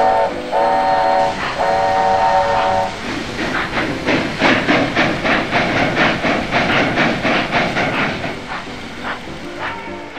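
A steam locomotive on a branchline sounds two whistle blasts, then chuffs in a steady, loud rhythm of exhaust beats with hissing steam as it works along the line.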